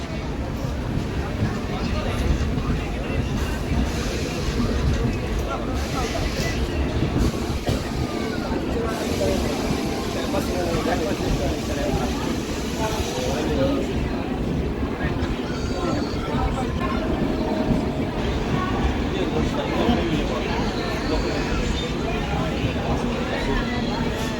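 The Okha Express runs toward Ramanathapuram with a continuous low rumble and rattle of rolling wagons, heard steadily throughout.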